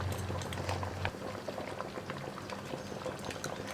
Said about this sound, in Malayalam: നമുക്കിനി ഇതിലേക്ക് ശർക്കരപ്പാനി ചേർത്ത് കൊടുക്കാം.